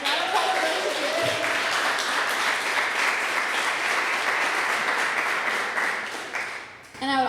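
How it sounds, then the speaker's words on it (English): Audience applauding a local beer company at an evening event, a sustained, dense wash of clapping lasting several seconds before tapering off near the end. "Yes, round of applause for Burlington Beer."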